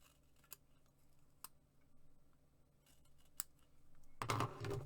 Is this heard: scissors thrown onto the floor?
yes